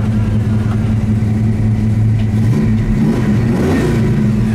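A classic Oldsmobile 442 engine revs through its exhaust, a loud, close, deep rumble that swells and climbs in pitch as the throttle opens, with no voices over it.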